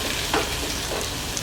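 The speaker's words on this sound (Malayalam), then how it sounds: "നന്നായിട്ട് വഴറ്റി കൊടുക്കുക." Onion and tomato masala sautéed in a pan for a lamb liver roast, a brief close burst of soft sizzling with a stirring scrape, no talk.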